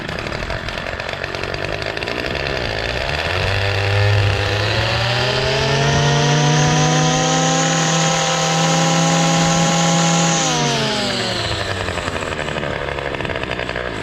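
A Ryobi CS30 gas string trimmer with an edger attachment runs loud and close, its engine buzz rising as it revs up, holding high for several seconds, then dropping back to idle, with no talk.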